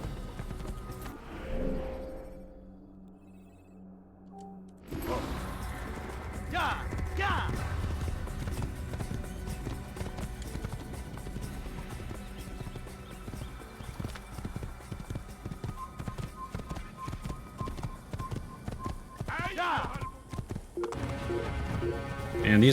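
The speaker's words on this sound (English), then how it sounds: "It's socially unacceptable to ride your horse fast." Horse hooves clip-clop steadily along a path in Assassin's Creed, a continuous rhythmic trot close by with occasional snorts, under someone talking throughout.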